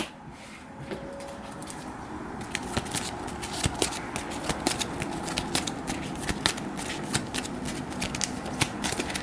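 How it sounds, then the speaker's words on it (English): A deck of cards is shuffled at the table during a game of Dune Imperium, giving crisp riffling and snapping card sounds in quick bursts, close and fairly loud, with no one speaking. "which means I will need to shuffle my deck"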